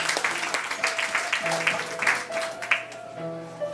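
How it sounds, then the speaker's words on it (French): Audience at a poetry evening's anniversary soirée claps for a photographer, with scattered, fairly close hand claps over a faint steady hum that thins out toward the end. "On l'applaudit, mesdames et messieurs."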